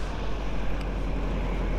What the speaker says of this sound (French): Qu'est-ce qu'il fait avec son avion là?